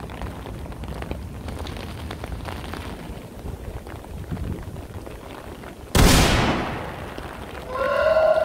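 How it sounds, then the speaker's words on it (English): Steady rain patters continuously on surfaces, then a sudden loud whoosh bursts in and slowly fades while the downpour continues. "even in the pissing down rain"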